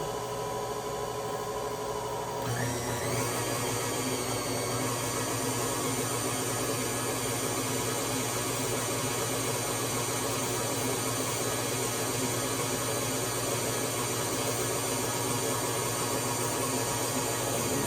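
An electric mixer whirs steadily and close through pumpkin bread batter in a home kitchen, a continuous dense motor hum that kicks in after a brief quieter start and runs unbroken.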